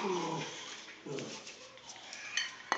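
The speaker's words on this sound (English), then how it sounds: "Dogs, go eat your own food." A household dog whimpers in short high whines beside food bowls, with dishes clinking and metal clattering nearby in a quiet kitchen.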